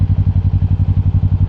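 A Kawasaki Ninja 650 motorcycle fitted with an Akrapovic exhaust idles close by with a loud, deep, lumpy rhythmic thumping pulse, about a dozen even beats per second, steady throughout with no talking.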